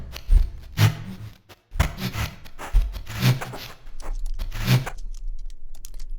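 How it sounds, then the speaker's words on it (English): Granular noise loop from the Output Portal plugin, resampled into a crunchy, gritty texture with rhythmic swells and bursts of rough noise repeating about every second and a half, upfront with no talking. "we now have this absolutely ridiculous noise loop thing that you"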